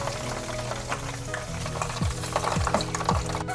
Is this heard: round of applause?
no